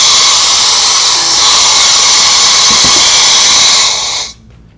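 A steady, loud high-pitched whine of a reamer cutting a metal motorcycle engine cam plate runs continuously, then stops abruptly near the end.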